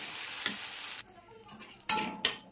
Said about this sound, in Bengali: দিয়ে দিয়েছি তেল গরম করে একটা শুকনো লঙ্কা ফোড়ন